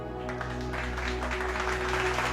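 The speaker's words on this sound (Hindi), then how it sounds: "पूरे दरबार ने जोरदार तालियों से अर्जुन का स्वागत किया।" A royal court in a palace applauds loudly, with dense sustained clapping over a steady droning musical tone.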